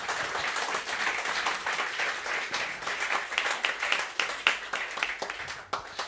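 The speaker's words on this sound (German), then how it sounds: "Applaus an den Karl, bitte." Audience applause at a live stage performance: dense, steady clapping from a crowd, fairly close and sustained throughout, with individual sharp claps standing out and no talking over it.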